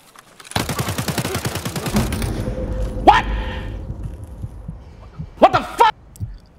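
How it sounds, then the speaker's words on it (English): Enemy gunfire in the video game Escape from Tarkov sounds as a loud, rapid automatic burst that stops after a second or so, followed by a few sharp, separate shots and clanks. "he actually started shooting on me exactly at the point where I was switching my guns"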